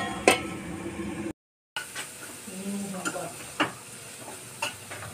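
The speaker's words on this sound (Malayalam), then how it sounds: "ഇനി ഇതെല്ലാം കൂടെ നമുക്ക് നെയ്ക്കകത്ത് വറുത്ത് വഴറ്റിയെടുക്കണം" Onions and spices fry in ghee, stirred with sharp utensil scrapes and clinks over a soft steady sizzle, broken by a short silent gap.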